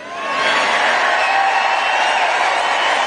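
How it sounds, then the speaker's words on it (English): A large crowd at a political rally cheers and shouts in a dense, sustained roar that swells in and holds loudly without a break. "the applause line was so big he couldn't even finish his sentence"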